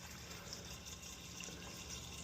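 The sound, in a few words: bleach being poured into a pressure washer sprayer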